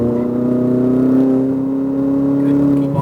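Car engine revving up steadily as throttle is reapplied coming out of a corner during track driving instruction, a smooth rising tone throughout, close and loud.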